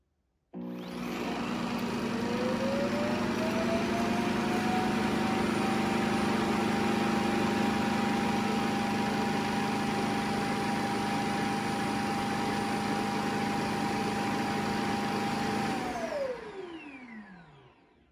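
A Shark IQ self-empty dock roars on steadily for about fifteen seconds as it sucks dust out of a robot vacuum's bin, a whining tone rising early, holding, then falling away as the motor spins down.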